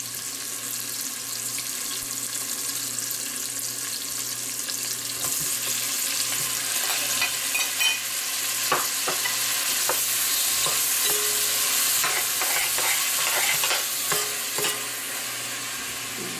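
Tomatoes dropping into garlic and onion frying for gisadong monggo with pork belly, a continuous bright sizzle with bursts of wet crackling and scraping stirs, steady and close throughout.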